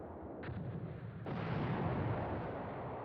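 Artillery bombardment in the wartime strategy game Command Ops 2, set in Poland 1939 in the Beskid Mountains: a dull, rumbling wash of distant shellfire with a sharper crack about a second in, continuous and moderately loud with no voices.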